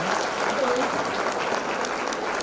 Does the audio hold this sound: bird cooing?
no